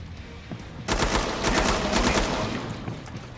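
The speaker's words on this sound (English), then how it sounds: "It's the varmint rifle." A varmint rifle fires in a video game: a quick string of sharp, loud gunshots bursts in after a quiet start and keeps cracking rapidly until the end.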